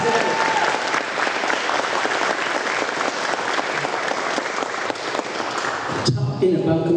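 Dense, sustained applause from a large lunch audience at a 25-year celebration, loud and steady for about six seconds before cutting off, with some speech-like sound mixed in.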